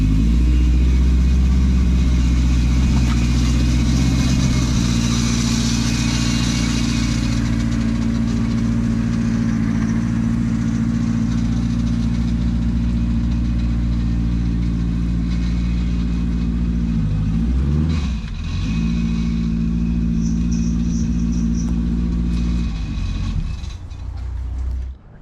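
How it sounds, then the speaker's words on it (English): A car engine runs steadily at close range as the car is moved off a driveway, a continuous low drone that dips briefly with a shift partway through before settling again, no voices. "So I'm gonna move this car off the driveway and get his wagon over here."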